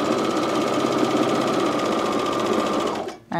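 A coverstitch machine hemming fabric runs at a steady, loud, fast mechanical drone, then stops abruptly near the end.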